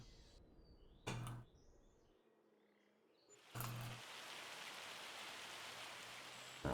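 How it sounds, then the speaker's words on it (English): Rain in the Farming Simulator game: a couple of short thumps and a quiet stretch, then a steady, even hiss of rainfall sets in and continues to the end. "Apparently it's raining"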